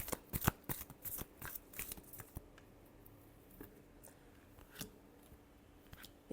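Tarot cards riffle and slap in a quick, close shuffle, a flurry of crisp papery flicks that thins into sparser taps and slides of the deck.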